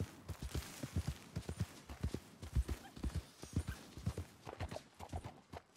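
Horse hooves clip-clop in Red Dead Redemption II, a quick, uneven run of soft close thuds repeating steadily for several seconds at moderate volume, with no voices.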